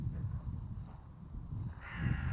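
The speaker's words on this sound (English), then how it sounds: "it's a very unhappy crow. What's the matter, Mr. Crow?" A crow caws harshly close by amid steady low outdoor rumble, with a louder raspy call near the end.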